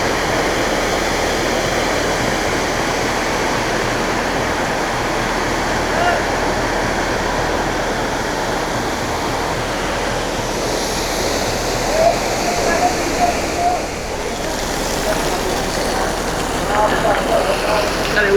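Water pouring down a mountainside on the foggy Kedarnath trek, a steady, dense rushing roar that holds even and fairly close throughout, with brief soft voices murmuring in the background.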